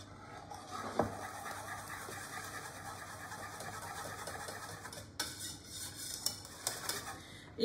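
Custard mixture with cornstarch stirred for pastéis de nata, a steady scraping swirl against the pot with a few sharper knocks of the utensil near the end, close and fairly quiet, no voices.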